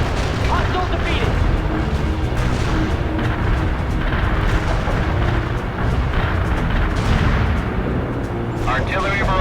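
Artillery barrage in World in Conflict, a steady dense rumble of repeated explosions and booms that never lets up, with radio chatter heard over the shelling.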